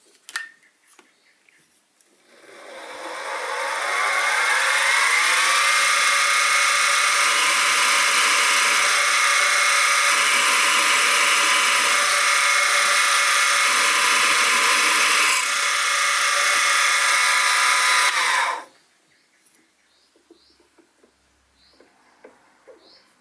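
Drill press boring 2.1 mm holes in a metal baseplate for a model Stuart half beam steam engine, a loud steady high whine running for about sixteen seconds, starting and stopping abruptly between quiet workshop moments.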